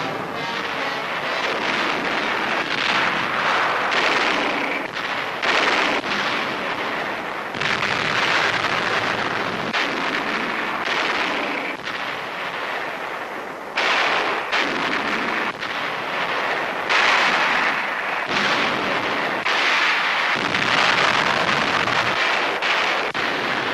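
United States artillery and mortar shells hit entrenched positions on an island during 1944 fighting, a loud, dense run of booming blasts and rumbling explosions with abrupt onsets, layered over a constant harsh roar on an old newsreel soundtrack.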